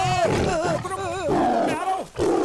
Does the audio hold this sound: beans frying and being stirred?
no